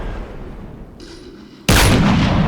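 A single loud, booming 50 BMG rifle shot from the video game 7 Days to Die bursts in suddenly after a quiet lead-in and is followed by a sustained, heavy roar of echo.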